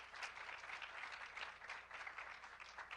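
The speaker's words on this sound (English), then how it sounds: "a round of applause, please" Round of applause from an audience at a sport industry panel event, a soft, distant, steady patter of clapping lasting a few seconds, with no talk over it.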